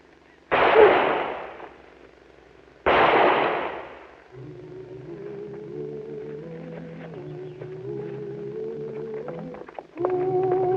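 Two loud gunshots ring out a couple of seconds apart in a western TV episode, each with a booming echoing tail, followed by a sustained music tone.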